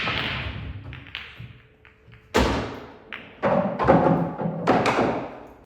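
Pool balls crack and thud across the table on an international-rules break. Several sharp knocks are spaced a second or so apart, each with a short rattling tail, close and fairly loud, with no voices.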